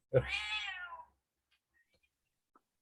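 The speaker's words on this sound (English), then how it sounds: "I'm being called by my cat." A domestic cat lets out a single drawn-out meow close by, lasting about a second, with silence after it apart from a faint click.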